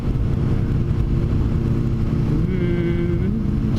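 A large motorcycle, probably a 1000cc bike, runs loudly and steadily nearby amid street traffic, with a brief rising rev near the end.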